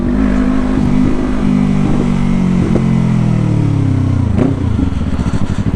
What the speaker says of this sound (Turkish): Sesi duyuyor musunuz mu? Ufaktan bir popcornu da var. Yani motorun.